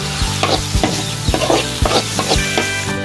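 Eggs and vegetables stir-fry in a hot pan with fish sauce and oyster sauce, loud sizzling under a quick rhythm of spatula scrapes and knocks, close by and with no voices.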